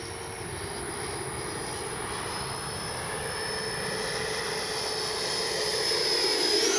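A steady, continuous jet whine from an FMS 80mm F-86 Skyblazers RC jet making a low gear-down pass, moderately loud and holding throughout, with a faint high-pitched edge growing slightly louder toward the end.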